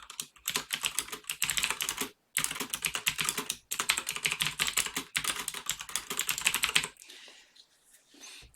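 Rapid typing on a computer keyboard while entering a file name, a dense run of close key clicks broken by a few short pauses, then trailing off into quiet near the end.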